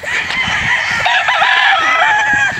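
A white rooster crows loudly and close, one drawn-out cock-a-doodle-doo with a rising and falling pitch, with faint clucks and farmyard sounds beneath.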